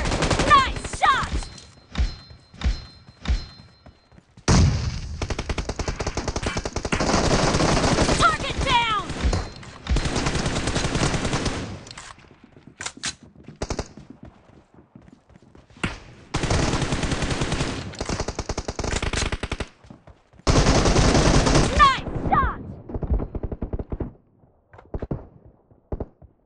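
Rapid bursts of automatic gunfire and single shots ring out in PUBG Mobile team deathmatch gameplay, clustered in several loud volleys with brief pauses, while a game announcer's voice speaks between them.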